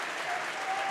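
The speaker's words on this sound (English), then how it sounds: "And here's another round of applause for the Yellow Jackets" Crowd applause fills a gymnasium at a boys' basketball section championship, dense and steady throughout as the Yellow Jackets are honored.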